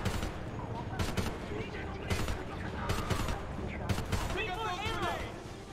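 Controlled bursts of gunfire in Homefront crack repeatedly in quick, uneven clusters against a busy combat din, with faint talk in the background.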